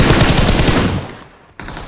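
Loud, close gunfire from an M24 sniper rifle in a video game, a dense booming blast that decays into a tail, followed by a sharp second burst near the end.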